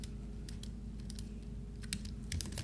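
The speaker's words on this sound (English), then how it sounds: "I'm going to type Masterclass" Keys clacking on a computer keyboard as text is entered, in scattered short bursts of quick taps over a steady low hum, close and fairly quiet.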